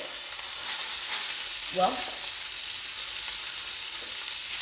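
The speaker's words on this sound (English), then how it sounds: "the lamb chops have been sizzling away" Rosemary garlic lamb chops sizzle in a pan, a steady bright frying hiss throughout, with a brief voice and a faint clink partway.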